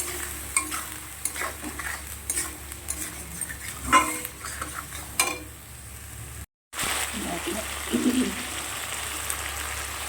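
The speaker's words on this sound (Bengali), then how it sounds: "মশলা একটু ভালো করে কষিয়ে নেব।" Chilli paste and salted spice masala for a Bengali fish curry frying in a pan, stirred with scraping spoon clicks and a soft sizzle; a brief pause, then lower stirring and faint bubbling resume.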